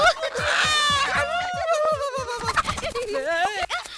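A chicken clucks and squawks in agitated bursts nearby, loud and frantic over rustling movement.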